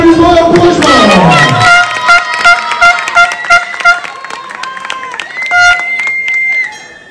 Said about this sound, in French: reprise, s'il vous plaît, sur vos applaudissements et encouragements